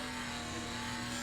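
A BMW car engine in the video game Traffic Rider drones steadily and faintly, a thin sustained hum with a fixed pitch and no clear rise.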